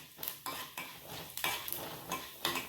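Urad dal is dry-roasted in a pan, a spoon stirring and scraping it in quick bursts of rattling clatter, roughly six strokes in under three seconds, close and fairly quiet with no voices.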